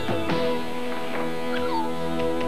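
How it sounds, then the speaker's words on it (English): A dog in a 1988 commercial yips and whimpers in a few short, high, close cries, with a brief bark-like yelp early on, all over a steady music bed. "Time to walk the dog."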